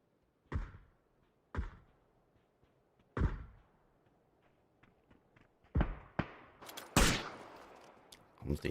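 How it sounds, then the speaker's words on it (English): Smoke launchers fire in PUBG, a series of sharp, loud thumps at irregular intervals, then a denser cluster of bursts and clatter near the end, with casters' voices faintly underneath. "Comes the smoke launchers."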